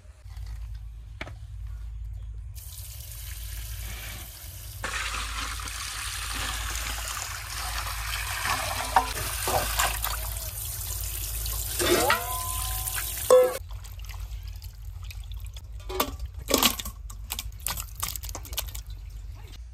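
Cut duck meat is washed by hand in water in a village kitchen, with splashing, trickling and dripping that come and go in bursts, near and moderately quiet, with no talk.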